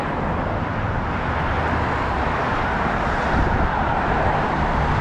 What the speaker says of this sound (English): trying to hear myself talk over these cars